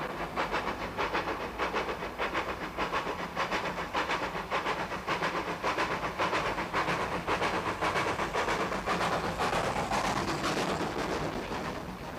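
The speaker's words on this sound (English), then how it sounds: "This became the standard Great Western pannier tank, a tremendously versatile engine, and Britain's most numerous steam locomotive" A Great Western pannier tank steam locomotive on a preserved branch line, chuffing steadily with a rapid, even exhaust beat over continuous hiss and rumble, loud and close throughout with no voices.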